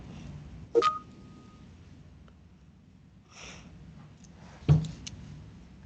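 Telephone keypad tones sound as a participant dials into a meeting by phone: two sharp, isolated beeps a few seconds apart, each with a short ringing tail, against quiet room hiss.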